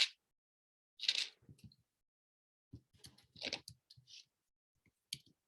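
Typing on a computer keyboard, a few scattered bursts of quiet close clicks and key taps separated by silent pauses.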